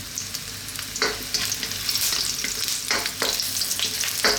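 Kikiam sizzling in hot oil in a wok, a steady close crackle broken by several louder bursts as the pieces are stirred and turned, with no voices.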